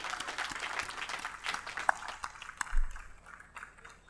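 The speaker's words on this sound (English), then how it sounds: "A big round of applause, ladies and gentlemen" Audience applause at an infrastructure inauguration at NOIDA SEZ, following a book unveiling: a quiet, fairly distant patter of clapping that rises and fades over a few seconds, with a low thump near the end.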